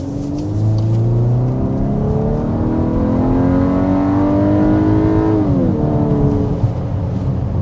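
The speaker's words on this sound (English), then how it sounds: "we're going to start with a hard acceleration" A 2025 Volkswagen Atlas engine revs hard and climbs steadily in pitch as it accelerates to 60 mph, loud and close, with a brief dip near the end as it shifts gear.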